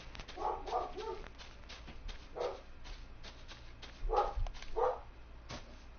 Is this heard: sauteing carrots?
no